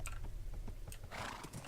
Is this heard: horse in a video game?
yes